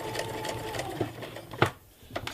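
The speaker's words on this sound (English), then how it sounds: "I lowered the sewing foot and continued sewing, and then it was no problem anymore." A sewing machine stitching along a fabric edge, heard as a steady rhythmic chatter of needle strokes at close range, with a brief pause near the end before it starts up again.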